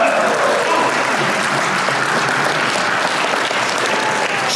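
Audience applause fills the room, a steady dense wash of many hands clapping at full volume without a break, close and continuous from start to finish.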